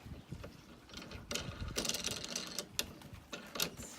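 Bolts being screwed onto the handle of a Kobalt 20-inch self-propelled lawn mower, a close, quiet run of ratcheting clicks and metal rattles in uneven bursts.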